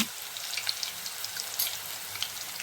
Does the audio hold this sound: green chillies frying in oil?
yes